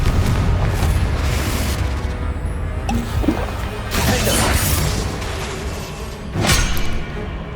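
Confringo blast spells detonate in the Hogwarts Legacy game as loud booming explosions, with several separate crashing bursts and whooshes spread across the battle, and no talk over them.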